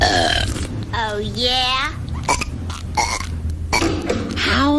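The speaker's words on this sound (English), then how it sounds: "I absolutely forbid burping in this household" Long, drawn-out burps rumble out one after another during a burping contest in a cartoon, loud and close, with brief spoken lines between them.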